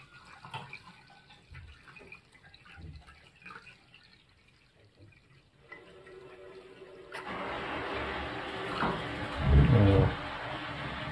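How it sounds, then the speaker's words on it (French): Boiled water pours into a jar while making fruit kefir, a quiet trickle swelling into a louder, fuller gush over the last few seconds, close by and with no talk. "d'abord je vais mettre un peu d'eau comme je le disais. Donc l'eau que j'ai fait bouillir"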